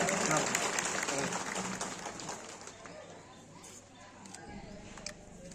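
An outdoor crowd at a taluka-level Independence Day celebration in Bodeli claps in a fairly distant burst that fades over a few seconds, with voices talking beneath.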